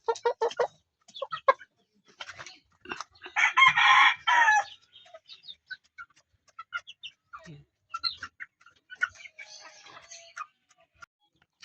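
Roosters and stags tethered outside at a Filipino backyard farm, one loud close crow in the middle among scattered clucks and short calls, with a person talking intermittently.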